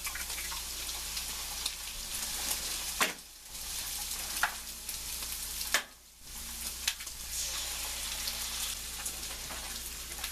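Eggs cook in a hot pan with softened potatoes, giving a steady sizzle and frying crackle that briefly dips twice, with occasional stirring scrapes.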